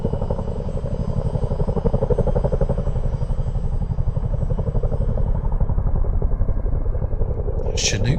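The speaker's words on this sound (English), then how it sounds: "That Chinook sound." A deep, steady rhythmic rotor thump of a twin-rotor Chinook helicopter in Microsoft Flight Simulator drones continuously, loud and close, with a brief faint high chirp near the end.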